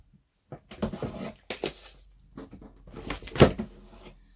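A craft drawer is rummaged through, with a series of clunks, slides and rattles of items shifting inside, close and moderately loud, in irregular bursts.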